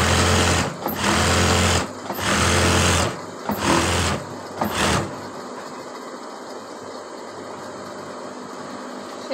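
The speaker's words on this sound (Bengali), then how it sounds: "আমি আবার এরকম সাইড দিয়ে আরেকটি সেলাই বসিয়ে দেব।" An electric sewing machine runs a side seam on a kameez in several loud, steady whirring bursts with short pauses, then stops, leaving a quiet room with faint background hiss.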